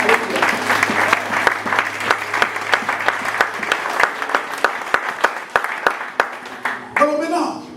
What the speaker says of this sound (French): Quelqu'un acclame pour Jésus.